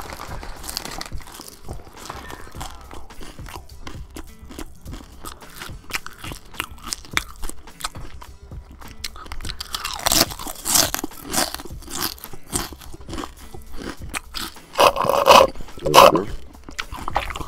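Someone eats chips over Call of Duty: Modern Warfare voice chat, with loud, close crunching, biting and crinkling of the bag, growing busier and louder toward the end.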